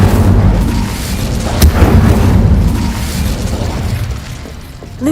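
In a Harry Potter video game, an Incendio fire spell bursts out as a loud, close booming blast with a crackling rumble that rolls on for several seconds, a sharp pop near the middle, then fades.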